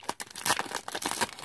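A thin 20 by 20 cm paper pad crinkling and rustling in quick bursts, close and clear, with sharper crackles mixed in and no talking.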